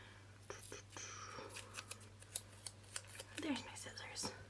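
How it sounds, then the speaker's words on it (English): Scissors snipping masking tape in a quiet room, a run of crisp close-up snips and clicks scattered across a few seconds, with soft whispered talk and faint handling rustles between cuts. "There's my scissors."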